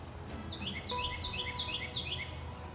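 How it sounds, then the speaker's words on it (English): Birds sing outdoors in the background, a faint run of repeated high chirping phrases over soft ambient noise. "there are birds that remind us of that every day"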